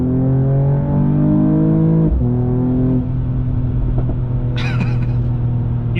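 A 2022 Mercedes E53 AMG Coupé accelerates hard on a highway, its engine note climbing steadily, dropping briefly at a gear change, then rising again as a loud continuous drone, with no talking.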